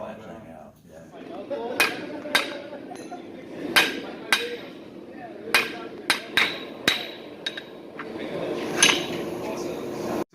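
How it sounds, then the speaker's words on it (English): Sharp metallic strikes of a power hammer drawing out metal ring out irregularly, some in quick pairs, over a low rumbling background with faint voices. "you're right onto the power hammer and draw that thing out"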